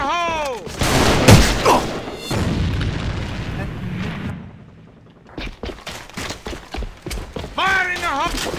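Breaching charges exploding in a tactical shooter video game, heavy booms and gunfire bursts scattered through the clip amid shouted voices and in-game radio calls.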